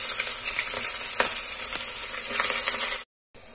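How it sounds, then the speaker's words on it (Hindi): Onions fry in well-heated oil with cloves, cardamom and black pepper, giving a loud, close, continuous sizzle with a few stirring scrapes before it cuts out abruptly near the end. "हम इसमें ऑयल गर्म है अच्छे से, तो अब हम इसमें प्याज भी ऐड कर देंगे"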